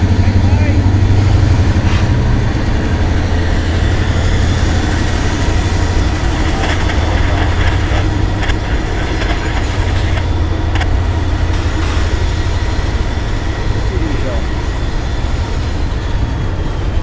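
An SD70ACe locomotive, number 1849, rumbles past at trackside hauling a train. A loud, continuous low roar of engine and rolling wheels carries on throughout, with faint clatter and squeal on top.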